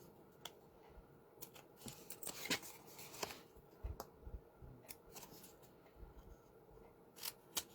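Scissors or a blade trim a small section off a piece of produce at a farmers market, giving faint, sparse snips and clicks spread over several seconds in a quiet setting.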